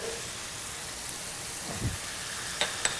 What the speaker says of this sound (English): we're gonna sweat that down with the beef so it grabs all that nice beef fat in there